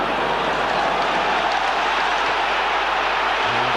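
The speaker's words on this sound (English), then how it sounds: "Now the crowd calling for them to accelerate." A football stadium crowd at a 1997–98 Premier League match between Newcastle and Liverpool sends up a continuous, loud, dense roar of shouting and calling out, unbroken throughout.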